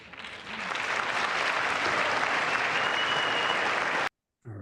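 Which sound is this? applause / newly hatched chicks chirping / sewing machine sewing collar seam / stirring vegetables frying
applause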